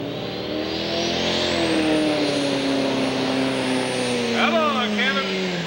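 A 10,000 lb Pro class pulling tractor, the Lukey Eliminator, revving at a 1996 Taylorville, Illinois pull. Its loud engine climbs steadily in pitch to a sustained high whine, then wavers near the end, with an announcer talking over it.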